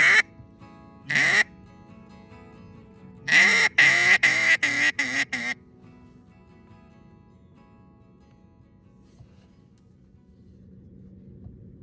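Several loud duck quacks, first two single calls, then a quick run of five or six in a row, followed by quiet background.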